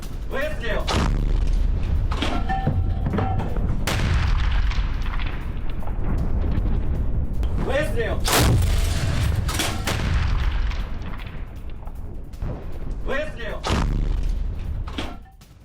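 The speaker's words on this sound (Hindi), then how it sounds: "ओरेखोव में रूस के आर्टिलरी हमले, मास्टेबी होवित्जर से रूसी गोलाबारी" Russian howitzer artillery fire in war footage near Orekhov: several heavy booms spaced seconds apart, loud and close, each with a rumbling tail, over a steady background of voices and field noise.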